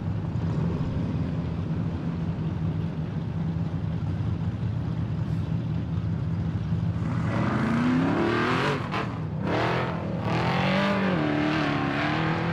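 An off-road race car with a Miller chassis runs during King of the Hammers qualifying in 2019, its engine droning steadily before revving and climbing sharply in pitch as it accelerates nearby, with no talk over it.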